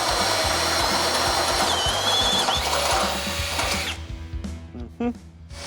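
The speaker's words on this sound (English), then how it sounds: "Now we can go through and drill out the rest of the holes needed on that template." A drill bores holes through a template bolted onto a Chevrolet C10 truck frame, a loud continuous whine with rhythmic ratcheting pulses, then stops, leaving a few metallic clinks and handling noises.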